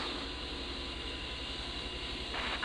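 An A-10C jet engine spools up in a flight-simulator cockpit, producing a steady, loud whine and rumble with low throbbing pulses. Near the end a brighter hiss swells over it.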